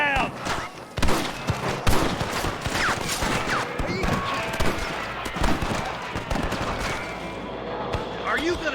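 Gunfire at rustlers in the western video game Red Dead Redemption, dense rapid shots and thuds in a busy fight, with shouting voices over the shooting.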